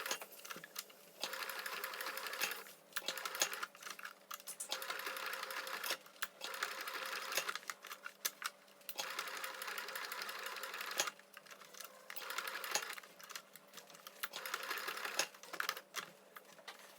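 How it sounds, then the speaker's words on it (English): A sewing machine stitches fabric for a garter belt, running in repeated bursts of fast, rattling mechanical chatter separated by brief pauses, close and fairly quiet. "I'm going to go over this with the sewing machine just to make sure it's really, really well on there"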